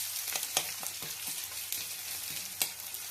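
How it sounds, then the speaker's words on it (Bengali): Onion frying in a pan for a poppy-seed and drumstick dish, a soft continuous sizzle broken by a few sharp crackles and stirring scrapes, close and fairly quiet, with no voices. "মানে খুব বেশি এটা ভাজা ভাজা করবো না পেঁয়াজটা।"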